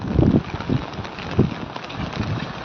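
Strong wind blowing beside the swollen Bhadar River, fed by open dam gates, heard as loud gusty buffeting against the microphone that rises and falls in irregular bursts, with no talk.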